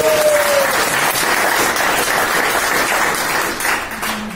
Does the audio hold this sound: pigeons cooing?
no